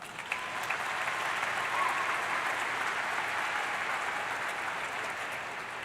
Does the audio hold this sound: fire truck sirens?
no